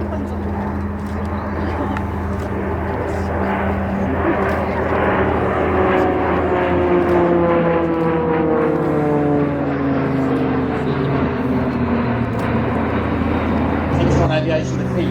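RNZAF aircraft flying close formation aerobatics at the Warbirds over Wanaka 2024 airshow, a loud steady engine drone with slowly sliding pitch as they pass overhead, while a commentator speaks throughout.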